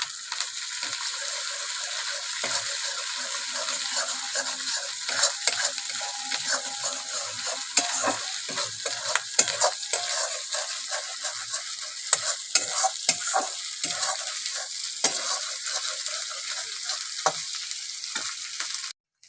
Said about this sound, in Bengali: পেঁয়াজটা আমি ভালো করে কষে নিয়েছি এবার দিয়ে দেবো আদা রসুন বাটা